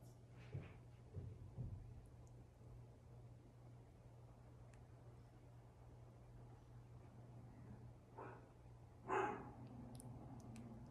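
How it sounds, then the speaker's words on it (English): A dog barks a few times at its reflection in a mirror indoors, with short faint woofs near the start and a louder one later over a low steady hum. "He always barks at himself in the mirror."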